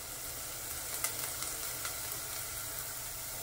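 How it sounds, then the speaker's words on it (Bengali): Soaked lentils and sago sizzle in hot frying ghee with onion, garlic and ginger, a steady close crackle with a few sharper pops as the mix is stirred. "এই যে ভিজিয়ে রাখা মুসুরির ডাল আর সাবু দিয়ে একটু নাড়াচাড়া করে"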